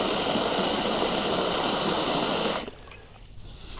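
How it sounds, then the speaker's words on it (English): Water runs steadily from a faucet into a large camping water bag for about two and a half seconds, a loud close rushing stream, then stops abruptly, leaving quiet outdoor background. "I will fill up this bag and it takes a surprising amount of water"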